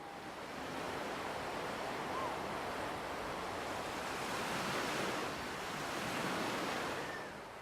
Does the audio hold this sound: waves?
yes